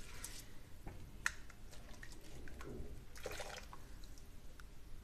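Drained rice is tipped into a pot of boiling water in a home kitchen, giving quiet, scattered splashes, drips and wet squishes over a few seconds, with no talking.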